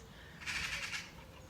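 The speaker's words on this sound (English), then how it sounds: "Listen to the birds," Birdsong bursts briefly in the middle, a bright chirping chorus over a low outdoor rumble, fading back to quiet background.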